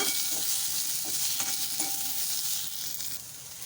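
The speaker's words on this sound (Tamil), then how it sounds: "இதில் வந்து நான் இன்றைக்கி மூணு சின்ன சைஸ் பச்சை மிளகாயை வந்து உள்ளே ஆட் பண்ணிக்கிறேன்" Green chillies and onions are stirred while they fry in a pan, giving a steady, close hiss of sizzling with soft scraping strokes throughout and no voices.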